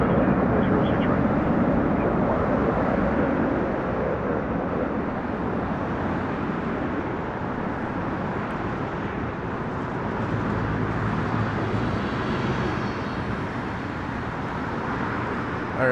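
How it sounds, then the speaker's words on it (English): Boeing 787 airliner arriving from Tokyo and landing at Toronto Pearson airport, a steady broad jet roar that holds loud and even throughout, with a low rumble beneath it and no pause. "that's the 787, and this one is for sure from Tokyo"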